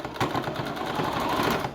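Sewing machine stitching a Paw Patrol appliqué onto a T-shirt runs steadily in close-up, a rapid even mechanical whirr with rhythmic needle ticking that holds for the whole short stretch.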